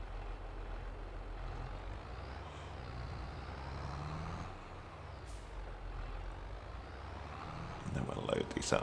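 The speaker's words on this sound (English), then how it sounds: "so when we're here, detach the trailer." Heavy vehicle idling with a low steady engine drone in Farming Simulator 22 as a trailer is detached, a short air-brake hiss and clunk rising near the end, with a voice talking over it.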